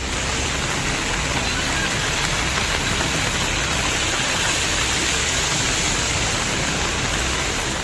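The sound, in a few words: heavy rain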